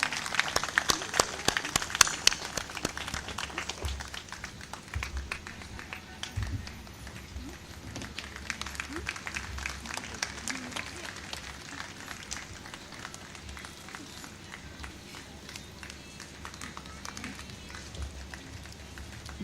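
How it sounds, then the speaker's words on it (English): At a hospital's tenth-anniversary celebration, an audience claps for a best-employee award. Scattered, lively clapping is loudest at first, then thins into a softer patter with some background talk. "Let us give a big clap to her."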